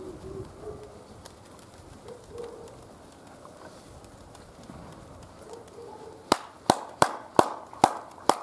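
Pigeons give faint, low cooing phrases at intervals through a quiet outdoor scene, and a series of sharp, evenly spaced claps follows near the end.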